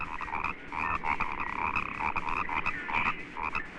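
Frogs and toads croak in a dense, continuous chorus, with rapid overlapping calls pulsing steadily throughout at moderate loudness and no voices.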